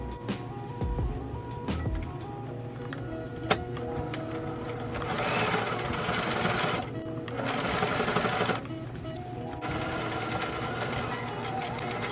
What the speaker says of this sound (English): I'm about to keep sewing these all kinds of ways so I can get a better look